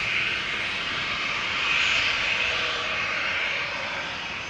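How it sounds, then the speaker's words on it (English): A Boeing 737 jet rolls onto the runway for departure at Amsterdam Schiphol, its engines giving a steady, fairly distant whine and rumble that swells a little midway, then settles again. "In the meantime, we can hear the"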